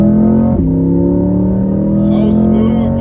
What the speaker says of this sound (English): So listen to that exhaust go